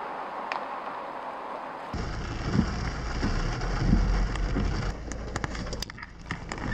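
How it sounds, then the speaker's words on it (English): Steady rain drums on a car while driving in bad weather on dark roads in Arkansas, a dense constant patter with scattered sharper drop hits rising at moments, continuous throughout with no talking. "Bad weather, it's been raining, trying to get somewhere, can't get there."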